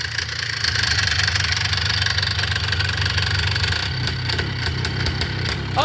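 A Polaris 4x4 ATV with a bad clutch idles steadily nearby, a low even rumble with light mechanical ticking throughout.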